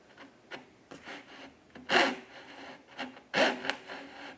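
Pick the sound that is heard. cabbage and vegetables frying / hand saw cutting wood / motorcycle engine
hand saw cutting wood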